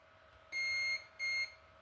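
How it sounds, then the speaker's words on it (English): Multimeter continuity tester beeping while probing capacitors on a Nintendo Switch circuit board, two clean steady electronic tones, each about half a second long, separated by a short gap, close and fairly quiet with no talking. "Just check the capacitors, check for one side beeping,"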